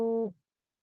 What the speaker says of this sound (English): Why is my phone making goofy noises?